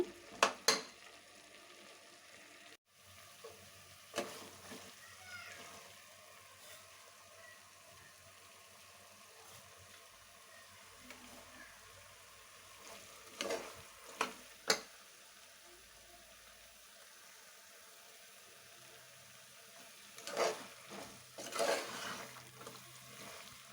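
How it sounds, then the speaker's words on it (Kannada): Masala for a potato and chickpea sambar frying in a pan, a faint steady sizzle with a few louder stirring clatters scattered through, no talking. "ಚೆನ್ನಾಗಿ ಫ್ರೈ ಆಗಲಿ, ಸ್ವಲ್ಪ ಇದು ಮಸಾಲೆ ಎಲ್ಲ ಇದಾಗಲಿ."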